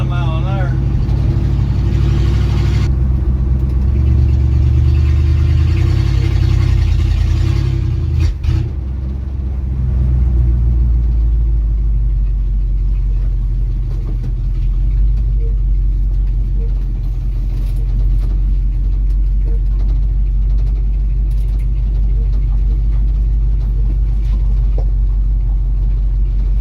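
A 1971 Dodge D100 pickup, back on the road after sitting abandoned for 34 years, cruising in drive at about 25 mph with a loud steady low engine rumble and road drone throughout, someone talking over it.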